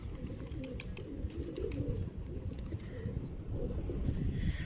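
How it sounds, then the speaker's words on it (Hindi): A flock of pigeons, some of them white, coo in low murmuring rounds outdoors, blended with steady wind noise and a faint bird call. "सारे आगे हैं कबूतर, कुछ इसमें वाइट भी हैं"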